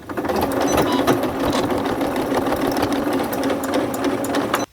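A sewing machine runs steadily, stitching a short folded dart into the fabric of a handmade plush bear's head, with a continuous close whirring hum and no talk.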